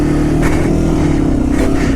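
A Yamaha TW200 motorcycle engine revs loudly in a foot of deep snow after a big storm, rising in two strained surges over a constant near drone.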